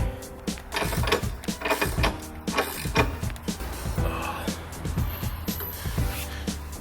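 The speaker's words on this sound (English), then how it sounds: "We're going to basically lift this jack stand up until our shock here lines up with the bottom bolt entry there." Jack raising a Harley-Davidson Iron 883 to line up a shock with its bottom bolt, repeated close mechanical pumping clunks and squeaks in a rough rhythm.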